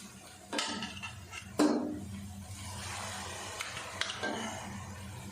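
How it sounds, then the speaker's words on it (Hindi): Greens drop into hot ghee in a pan with a soft hiss and crackle, a few metallic pan knocks and clinks around it. "चलें जी, अब इसमें साग डाल देते हैं।"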